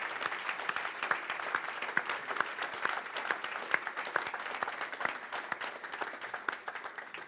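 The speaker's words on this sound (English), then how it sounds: "let's have a big round of applause for Tim" Audience applause fills a room at a San Francisco tech meetup on AI in automotive, a steady wash of many hands clapping at moderate distance, sustained evenly throughout with no voices standing out.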